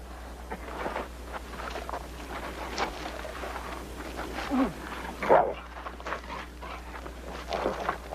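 A dog barks in short, scattered bursts against a windy outdoor background with a low steady hum, the barks fairly close and irregularly spaced.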